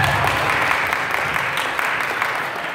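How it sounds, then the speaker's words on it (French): An audience at a comedy show applauds with a moderately loud wash of clapping that holds steady for a few seconds. "Allez, vous applaudissement."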